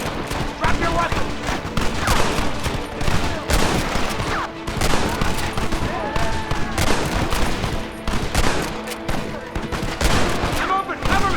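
Rapid gunfire fills a Red Dead Redemption shootout, with dense overlapping bursts of shots crackling continuously and loudly throughout, the volleys merging into a sustained fusillade.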